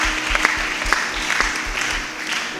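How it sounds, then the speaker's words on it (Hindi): A short burst of applause, scattered clapping from a small church congregation, moderately loud and lasting a couple of seconds. "इनके लिए ताली बजाओ।"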